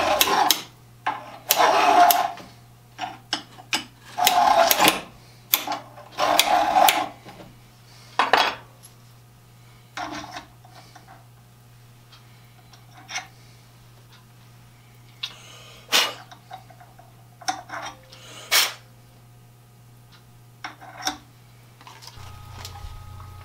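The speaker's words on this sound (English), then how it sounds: "I'm using a safe edge file. That lets me run against the shaft, and then the large flat part of the file is the only part that cuts." A safe-edge file works the end of a shaft from a Pexto 8014 brace, giving several sharp metallic rasping strokes with scrapes and light clinks in between. A steady low hum runs underneath. The strokes are close and intermittent over about twenty seconds.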